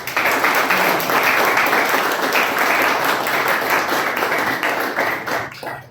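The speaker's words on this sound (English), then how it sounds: "I would like to hear a round of applause for you" A room full of people at a Toastmasters club meeting applauding steadily, dense clapping that holds strong throughout and then begins to taper off at the very end.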